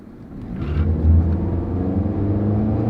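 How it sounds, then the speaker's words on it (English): A Nissan car with a CVT transmission accelerating from drive, a loud, close low engine drone that rises and then holds steady without any gear shifts, heard from inside the cabin with no talking. "Not really brisk acceleration. And of course it's a CVT, so it doesn't shift gears."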